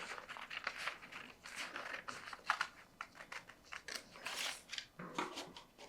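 Scissors snipping through fabric while cutting a sewing pattern and dart, a series of soft, quick crisp cuts and light rustling, faint and close.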